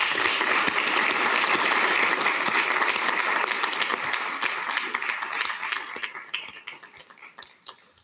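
Sustained applause from a commencement audience honoring those who supported a medical school graduating class of 2021, dense and loud at first, then thinning into scattered individual claps toward the end.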